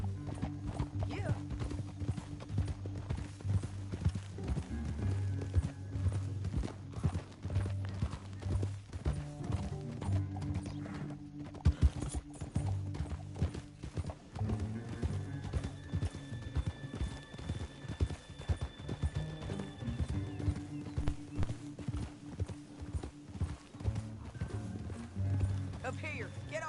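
Horses in the video game Red Dead Redemption II move at a steady clip-clop under a continuous music score and dialogue, with occasional neighs, the hoofbeats moderately loud and rhythmic throughout.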